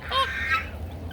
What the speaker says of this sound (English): I'd much rather listen to the American buff goose honk